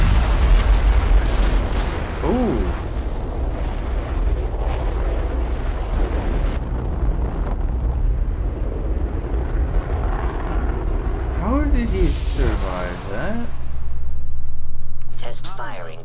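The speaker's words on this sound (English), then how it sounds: "One. Engine firing." A jet engine fires up in the Fallout 4 video game after a countdown, a deep rumbling roar that builds and swells loudly near the end, with voices talking over it and a brief exclamation.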